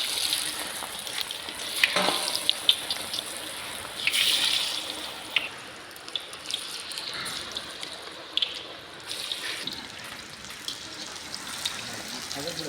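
Maggi kebabs, flavoured with garlic, fry in very hot oil, giving a steady bubbling sizzle with occasional crackles and clinks as pieces go in. The sound is close and moderately loud, with no talk over it.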